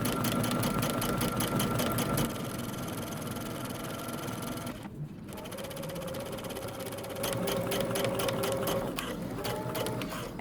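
A sewing machine runs in fast, rapid stitching bursts, pausing briefly in the middle before whirring steadily again, close and fairly loud.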